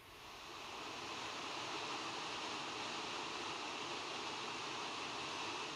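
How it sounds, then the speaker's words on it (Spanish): Waterfalls in Galicia pour in a dense, continuous rush of white noise, steady and fairly distant, with no voices over it. "Fervenzas de Galicia."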